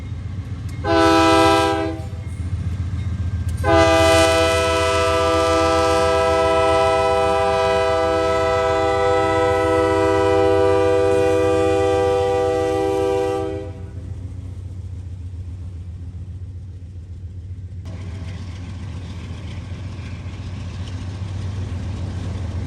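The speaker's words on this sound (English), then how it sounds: "Leading the way was a UP AC44CW." A Union Pacific AC44CW locomotive leads a freight train, its horn blaring loud and close in a short blast followed by a long sustained one, over the steady rumble of the rolling train that continues after the horn stops.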